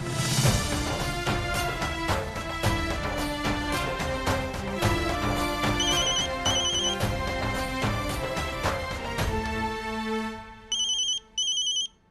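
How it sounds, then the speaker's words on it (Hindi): A phone ringtone plays as a loud, continuous melodic tune with steady repeating beats, then ends in a few short electronic bursts near the close. "किसका फोन है?"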